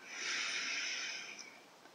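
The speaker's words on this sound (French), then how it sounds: "J'inspire et je relâche." Slow, relaxed breathing during a sophrology relaxation exercise: one soft, airy inhale-and-exhale lasting about two seconds, close and faint, with no talking.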